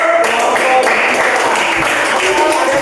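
A classroom of students claps after a group discussion, a busy, loud patter of many hands with voices audible beneath the clapping.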